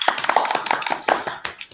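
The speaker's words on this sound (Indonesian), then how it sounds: "Tepuk tangan." A classroom of students claps in a short burst of brisk, uneven applause at close range.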